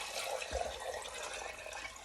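Concentrated vegetable stock is poured into a cooking pot of mushroom barley frumenty, a soft, faint liquid trickle with a small splash near the start, heard alone and quietly.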